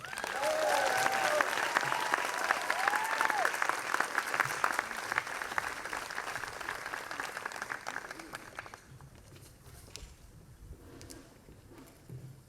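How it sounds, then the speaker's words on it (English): A crowd applauds steadily with dense clapping that gradually thins and fades toward the end. "give Israel another round of applause"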